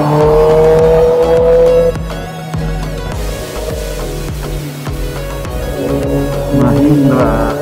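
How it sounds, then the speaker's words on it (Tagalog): Heavy traffic on a busy road, with car engines revving and accelerating close by and vehicles sweeping past in a loud, continuous stream of motor noise. "Ang daming sasakyan ngayon"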